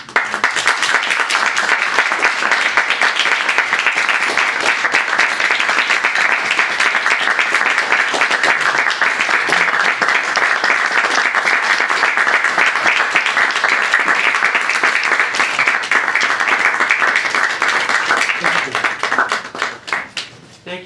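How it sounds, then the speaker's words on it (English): Sustained audience applause after a poetry reading by Robert Pinsky at the Grolier bookshop, dense steady clapping for about eighteen seconds before tapering off at the end. "Let's give Robert another round of applause."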